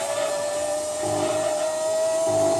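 A GT300 race car engine in the video game Gran Turismo 2 holds a steady, high whining drone that creeps slowly upward in pitch as it revs, with no voices over it.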